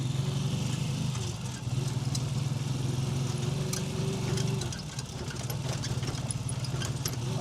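A small motorized tricycle engine idles steadily nearby with a constant low drone, while people talk over it and faint street noise sounds in the background.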